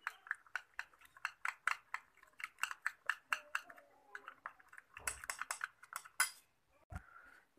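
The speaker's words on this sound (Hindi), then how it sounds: "अब हम सारी चीज़ों को अच्छी तरह से मिक्स कर लेंगे" A spoon clinks rhythmically against a bowl while stirring a creamy egg-white mixture for a cracked-heel remedy, with close, regular taps followed by a few louder knocks and scrapes.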